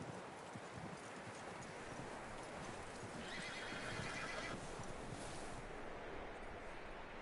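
Horse hooves clip-clop steadily on the ground in Red Dead Redemption 2 as a horse neighs, with a broad rushing background like wind or surf, somewhat distant and soft.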